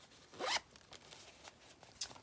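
Zipper on a fully lined, machine-embroidered lace zipper pouch, pulled in one quick, fairly loud zip followed by faint handling rustles and a short second tug near the end.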